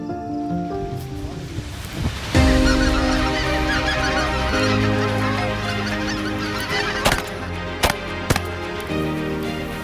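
Specklebelly geese flying in over decoys during a waterfowl hunt, a loud, dense chorus of honking calls building into a near, continuous clamor, punctuated late by a few sharp bangs.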